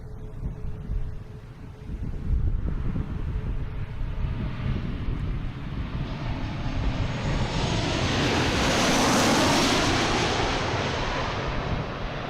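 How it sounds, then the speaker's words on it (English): A Southwest Boeing 737-800 airliner from Baltimore Washington International comes in to land at Boston Logan, its jet engine roar swelling steadily from a distant rumble to a loud, broad whine that peaks near the end. "Coming in, we have Southwest from Baltimore Washington International, 737-800"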